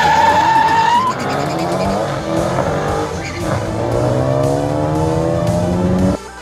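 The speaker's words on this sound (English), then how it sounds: "I wasn't going anywhere very fast because my tires were spinning" Car tires spinning and skidding at speed on an SRT: loud, sustained tire squeal layered over a revving engine whose pitch climbs, close and continuous for about six seconds.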